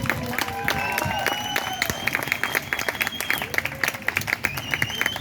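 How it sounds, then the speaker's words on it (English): An audience applauds continuously, a dense patter of clapping with some whistles and cheers layered over it, fairly loud and steady throughout. "Can we get one more round of applause for everybody?"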